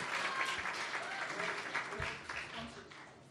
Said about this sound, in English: how about another round of applause for these amazing girls and their public speaking